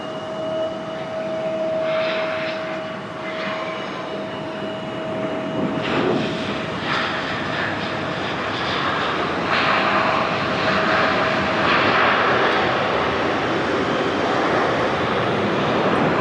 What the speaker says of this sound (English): What? An Alaska jet?